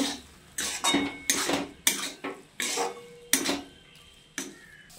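A coconut mixture with cardamom powder is stirred in a metal pot, giving a series of distinct scraping and clinking strokes in an irregular rhythm, close and moderately loud, with no talking.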